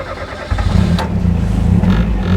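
A tuned Ford Escort RS Cosworth engine runs loud and close, its deep steady roar swelling after a brief quieter start and holding strong to the end.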